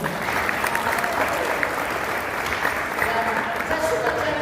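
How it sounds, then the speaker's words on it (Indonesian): Steady, loud applause fills a church congregation, dense clapping sustained without pause from start to finish. "Berikan tepuk tangan bagi Tuhan."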